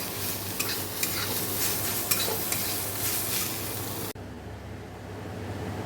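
Spinach greens fry in a wok with a steady close sizzle and scattered scraping stirs, then cut off abruptly near the end, leaving a quieter low hum.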